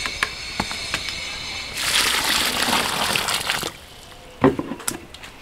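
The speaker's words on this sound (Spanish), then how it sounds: "vamos a echar agua." Water is poured onto prepared earth to mix mud for building a clay stove, a rushing pour lasting a couple of seconds amid scattered knocks and splashes, close by and fairly quiet.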